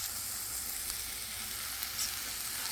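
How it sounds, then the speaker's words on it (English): Chopped onions sauté in a tablespoon of butter, a soft, even sizzle with faint stirring, quiet and steady over a brief stretch. "I'm adding a tablespoon of butter and my chopped onions, and I'm going to saute those."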